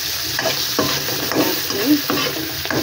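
Onions sizzling and frying in a pan, a steady hiss with rhythmic scraping stirs, close and continuous, no talk.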